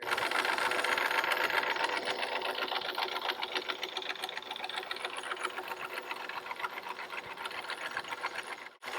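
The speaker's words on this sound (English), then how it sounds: "You've got your self-tailored winch, and that automates the system for you." A self-tailing sailboat winch whirs and clicks steadily while the mainsail is hoisted, a fast, continuous mechanical ratcheting close by that runs without pause for several seconds.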